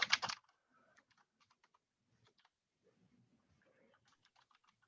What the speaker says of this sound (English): what I'm typing right now is, again, just kind of loading in the data from last time